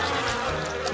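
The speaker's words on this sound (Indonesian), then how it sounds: "Tidak, itu banyak sekali lebah." A swarm of bees hums and buzzes continuously around honey, a dense, steady drone that fills the whole moment without pause.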